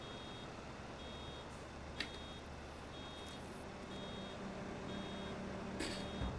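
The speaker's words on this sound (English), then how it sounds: "At least we have a little alarm going off every time we kind of get full." A baler's full alarm in the Farming Simulator 25 video game beeps in short, regular, faint high tones about once a second over a steady low machinery rumble.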